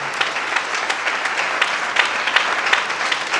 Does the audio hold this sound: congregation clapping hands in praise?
yes